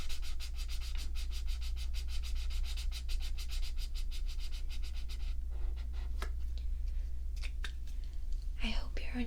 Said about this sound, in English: the sound that the markers make